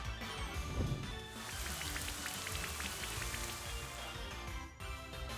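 Steady rain in a video game patters down without pause, a dense, even hiss of drops falling on a surface, with no voices.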